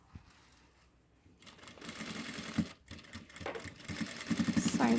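A sewing machine stitches a 3D fabric face mask, starting after a quiet pause and running in a fast, steady mechanical rattle that speeds up toward the end, close and clear.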